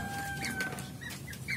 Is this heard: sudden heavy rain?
no